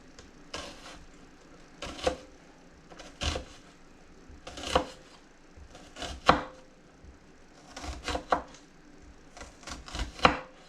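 A knife chops an onion into julienne strips on a cutting board, sharp knocks in irregular bursts, close and distinct, with no voices.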